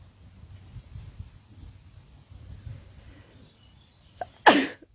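One sudden, sharp human sneeze bursts out near the end, loud and close, after a few seconds of quiet low room noise.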